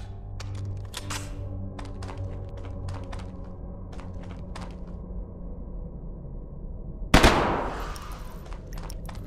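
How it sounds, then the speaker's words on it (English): Burst of assault rifle fire in a video game, a sharp loud blast near the end after scattered clicks and clatter over a low ambient hum. "maybe the assault rifle's better for the engineer because you don't have to be as accurate."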